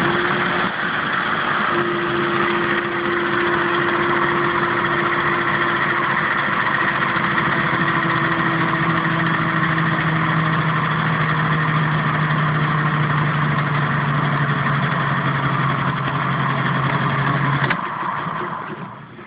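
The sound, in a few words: electric motor driving a generator via pulley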